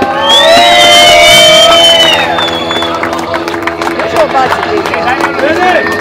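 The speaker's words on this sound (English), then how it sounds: "big round of applause for Rene Conrad" Crowd cheering and whooping at the Cable Krk Jam 2011 wakeboard contest prize ceremony for German rider Rene Conrad, loud and sustained, with a voice and some clapping mixed into the outdoor crowd noise.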